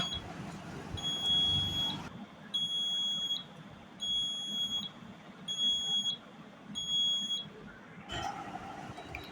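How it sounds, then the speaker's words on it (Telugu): A 9-volt buzzer in a smart blind stick circuit sounds as a loud electronic beep, repeating in about five regular pulses with short gaps, alone with no talk. "ఇప్పుడు చెయ్యడితే బజర్ మోగుతుంది, చూసారా?"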